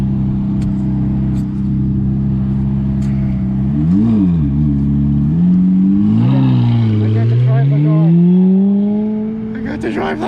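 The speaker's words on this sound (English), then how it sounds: "I got to drive a Ferrari." A 2007 Ferrari F430 engine drones steadily while driving, its pitch dipping and then climbing through repeated revs and shifts over ten seconds, loud and close from inside the car, with brief voice fragments.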